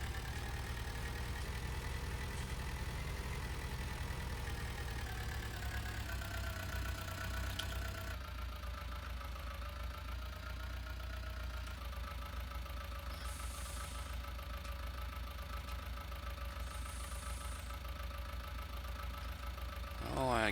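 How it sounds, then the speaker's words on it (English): Tractor engine running roughly and unevenly, a steady low mechanical drone with a shifting pitch partway through, fairly quiet and continuous throughout. "this tractor isn't running the best, I'm telling you"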